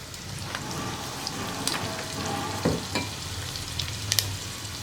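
Onion and split green chillies sizzling in hot coconut oil over high flame, a steady crackling fry with occasional stirring clinks and scrapes close by, no voices.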